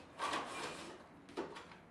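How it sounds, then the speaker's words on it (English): Plastic slide-out drawer of a compact mini coffee drawer for Keurig K-Cups being pulled open, a short scraping slide followed by a soft bump near the end, close and fairly quiet. "got this nice slide out drawer that you can make use of right here"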